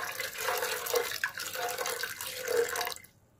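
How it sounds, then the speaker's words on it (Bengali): Water poured into a cooking pot for lentil dal, a close, splashing gush that runs for about three seconds before stopping abruptly into silence. "এবার আমি মাপ মতন জল দিচ্ছি।"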